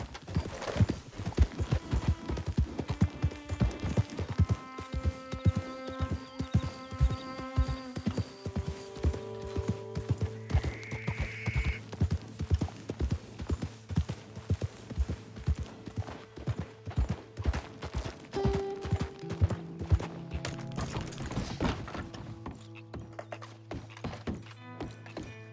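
Horse hooves clip-clop steadily and close, a rhythmic knocking that runs the whole way through with no talk over it, joined by a brief whinny-like squeal partway along.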